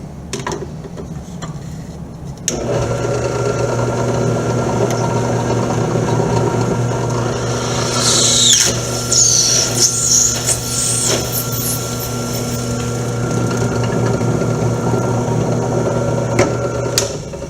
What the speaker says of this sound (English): We're going to be using what's called a step drill to drill the center of our piece of plastic